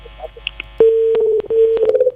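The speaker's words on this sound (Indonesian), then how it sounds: "nampaknya terputus melalui via telepon kita" A telephone line drops during a call-in radio interview, leaving a steady electronic tone that starts abruptly, briefly breaks off and resumes, with faint beeps and clicks before it, loud and close.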